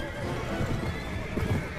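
A warhorse charging in Mount and Blade Warband gives a loud whinny over clip-clopping hooves and battle noise, close and continuous, with no talk over it.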